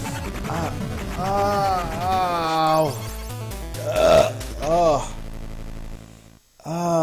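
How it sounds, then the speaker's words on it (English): A man lets out a long, loud, croaking burp close to the microphone, stretching over several seconds with wavering pitch during retro platformer gameplay. "Sorry, I have to burp."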